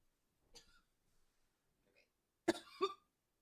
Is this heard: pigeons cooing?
no